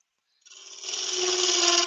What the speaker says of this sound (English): I've never had a gouge cut like this thing does.